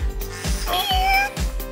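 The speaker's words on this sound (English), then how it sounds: "Here comes FRRBootsie Bootsie, a lovable kitty with a big personality." An interactive toy cat gives a drawn-out electronic meow, loud and close, set over a steady rhythmic music beat.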